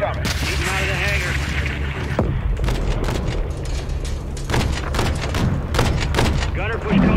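Incoming missile explosions and gunfire in the video game Call of Duty Modern Warfare 3, heavy booms and bursts of shots under continuous radio chatter, loud and dense throughout.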